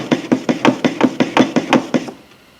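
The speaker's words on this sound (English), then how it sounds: "honing the chisel is lay it flat on the stone, run it backwards and forwards until you get a polished surface on the back of the chisel." A steel chisel is honed flat on a sharpening stone, about ten even back-and-forth scraping strokes in a quick regular rhythm, close and fairly loud, ending abruptly.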